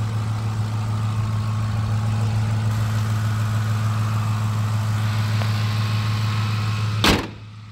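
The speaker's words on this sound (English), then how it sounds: "Sounds like a truck should sound." A 2006 Ford F-150 XLT pickup with a 5.4L Triton engine idles steadily and close, a smooth low hum holding even throughout, then a short sharp knock near the end.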